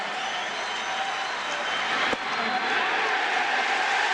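A large baseball stadium crowd at a 1998 Yankees–Twins game roars steadily, a broad sustained cheer with a faint sharp crack partway through.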